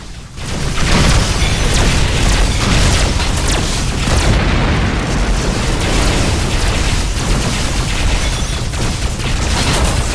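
Spaceship broadside cannons and missile explosions in Rebel Galaxy, a dense, continuous barrage of loud booming blasts and rumbling detonations.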